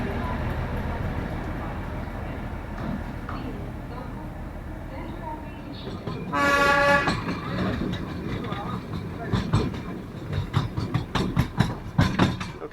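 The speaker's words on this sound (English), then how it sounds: "just going to hear the atmosphere and the noises of the locomotives as the train proceeds" A Darjeeling Himalayan Railway train pulled by locomotives rumbles along with a loud, brief horn toot midway, followed by rhythmic clattering of wheels; some voices in the background.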